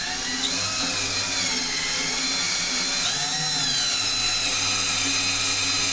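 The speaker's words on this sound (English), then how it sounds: "Take the matching socket and slowly drill into the hole, making sure that you're doing it straight." A power drill drives a socket into a wall with a loud, continuous whine that dips briefly in pitch under load, close up with no talking.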